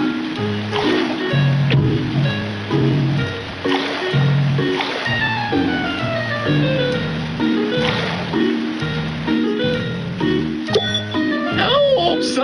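A rescue boat in a kids' cartoon fire-safety game speeds over ocean waves, with a continuous splashing water rush under bouncy game music and chimes throughout.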